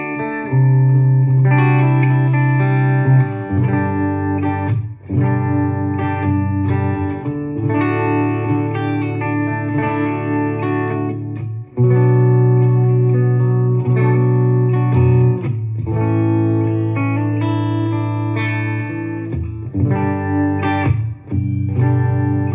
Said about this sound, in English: and so just a little bit of reverb.